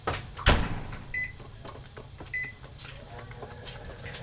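An oven is switched on in a home kitchen for baking shepherd's pie, a sharp knock or door thud near the start followed by a couple of faint beeps and low appliance hum, with some quiet kitchen clatter.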